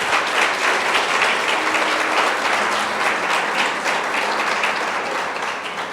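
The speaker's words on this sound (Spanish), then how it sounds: "Dale un fuerte aplauso a Dios." Applause from a congregation at a Spanish-language church service, a dense, loud wash of many hands clapping continuously with no voices rising above it.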